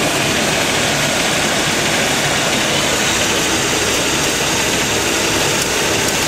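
An AMC Eagle car engine with a Motorcraft 2150 carburetor idles steadily and evenly, a constant loud hum with no changes in pace or pitch, heard up close with no talking.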